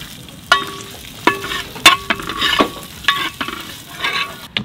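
Green chillies hitting hot oil for gongura mutton boti, a crackling sizzle broken by sharp spatula scrapes and pops at irregular intervals, close and fairly loud.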